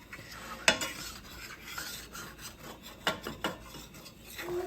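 A spoon scrapes and rubs repeatedly against the bottom of a pot as roux for gumbo is stirred, with rhythmic rasping strokes and an occasional sharper clink, close and fairly quiet, with no talking.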